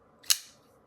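A CKF Fif20 folding knife blade snaps shut with a single sharp, close click, brief and crisp against near silence.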